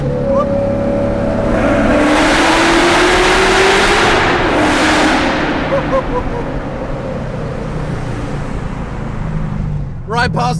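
A 900 bhp Corvette accelerates hard past traffic with a loud, sustained engine roar and a rising note, heard up close from inside the car.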